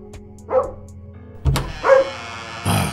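A dog barks in a few sharp, separate bursts at moderate distance, spaced out over a few seconds against a quiet indoor setting with faint background hum.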